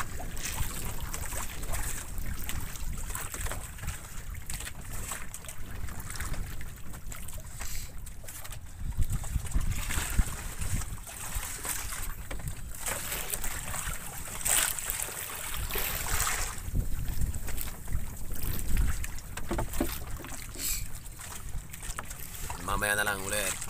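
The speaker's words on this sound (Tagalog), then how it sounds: "medyo malakas ng konti yung hangin, malamig" Strong, cold wind blowing outdoors at night on a boat, a steady loud roar with gusting swells. Water movement sits under it and brief voices can be heard.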